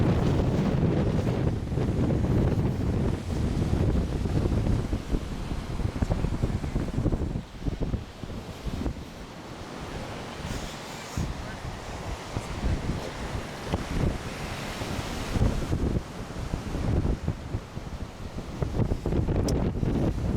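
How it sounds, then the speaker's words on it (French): Strong wind buffets the microphone in loud, rumbling gusts on a beach, with surf and waves washing underneath throughout, no talking. "il y a beaucoup de vent sur la plage actuellement"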